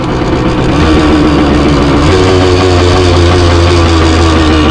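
A 1978 Yamaha DT175 motorcycle idles after a kick start, its engine a loud, steady, close putter whose pitch settles slightly lower partway through, running alone without speech.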